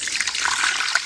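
Spring water rushing from a Caxambu-style spring reservoir on a rural property, a loud, close, steady splash and gurgle of flowing water.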